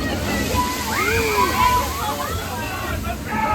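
Splashing and sloshing water from a theme park water show with leaping jets and a curtain of water, steady and fairly near, with crowd babble and voices mixed in.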